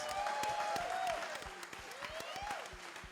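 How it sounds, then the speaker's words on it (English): A crowd applauds for Dave Wiss at a talk on mental healthcare and plant medicine, with steady clapping across the room and a few cheers or whoops rising over it. "Could we please get a big, maybe noisy round of applause for Dave motherfucking Wiss?"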